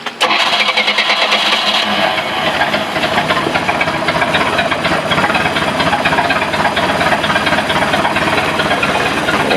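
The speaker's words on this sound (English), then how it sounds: "you just turn the key and it starts." A boat engine fitted with a MerCarb two-barrel carburetor with a brass float is started with the key. After a brief crank it catches and settles into a loud, steady, close running roar with no talking.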